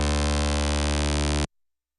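A loud, buzzy electronic dance music bass synth holds one steady sustained note, thick with harmonics and slightly pulsing, then cuts off abruptly after about a second and a half.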